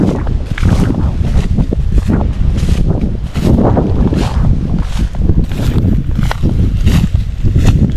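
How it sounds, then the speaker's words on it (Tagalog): Strong wind buffeting the microphone in loud, rumbling gusts, with rushing air that swells and eases repeatedly. "Buti na lang mahangin."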